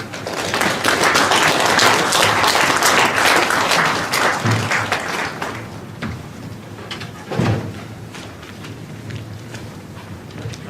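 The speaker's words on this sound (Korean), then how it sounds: "신승준 학장님을 박수로 모시겠습니다" A seated forum audience at the 2018 Smile Campaign event in Gangneung gives strong applause to welcome a university dean. The clapping is loud and dense for about five seconds, then thins and dies away, with a few scattered claps and knocks after it.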